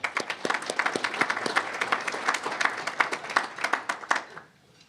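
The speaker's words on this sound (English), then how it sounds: "Let's give her a round of applause." An audience at a county budget luncheon applauds with crisp, scattered handclaps that build into a lively round. After almost five seconds the clapping fades out.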